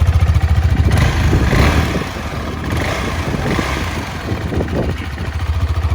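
The single-cylinder thump of a KTM 390 Adventure motorcycle idling outdoors near a lake just after a cold start, loud and close with a steady pulsing rumble and small fluctuations.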